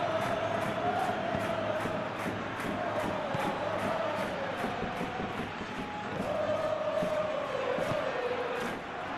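A stadium crowd in the PES 2021 football game roars in a steady, sustained wash of cheering and chanting, with a commentator's voice faintly underneath.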